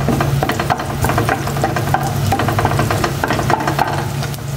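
Garlic sautés in a pan alongside pork for a tofu and pork dish, giving a steady, close sizzle and fry with intermittent scraping and stirring clatter throughout, with no voices.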